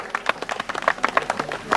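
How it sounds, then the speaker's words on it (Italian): Scattered, fairly close hand clapping from a small audience at a hillclimb race prize ceremony, brief uneven claps in quick succession with no talk over them. "Forza, un applauso."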